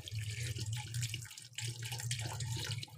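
Water poured into a cooking pot for shalgam gosht, a turnip and meat curry, a steady splashing stream with a brief break midway, close and fairly quiet.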